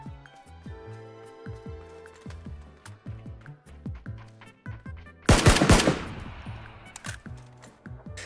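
Automatic gunfire in the battle royale game PUBG, with rapid bursts of shots rattling through the clip and one louder, harsher burst near the end over steady game music.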